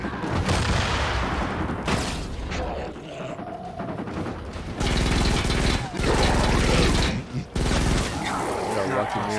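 Grenade blasts and bursts of gunfire in Fortnite Save the World, loud and dense for most of the stretch with short lulls, as game combat piles up booms and rapid shots.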